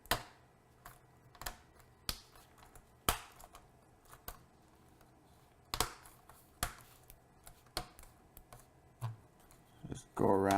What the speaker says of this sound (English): now we can go ahead and place the keyboard bezel on top. And that just kind of snaps in.